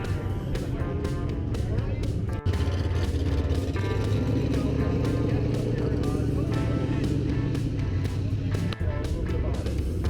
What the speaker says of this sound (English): Here's a Lincoln Continental rolling into the show.